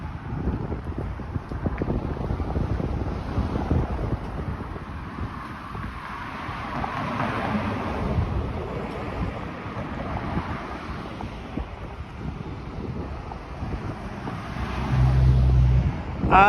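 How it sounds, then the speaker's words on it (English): Warm wind gusts along a sunny Toronto city street, a steady broadband rush of buffeting wind noise with distant traffic underneath, continuous and fairly loud throughout. "it's a little bit like windy, like a warm wind"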